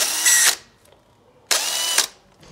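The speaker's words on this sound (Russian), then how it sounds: "Это у нас шуруповерт «Зубр» DA18-2LI." A Zubr DA-18-2-Li cordless drill-screwdriver runs in two short bursts of bright high-pitched whirring, each about half a second with a sharp start and stop, close and loud with a quiet gap between.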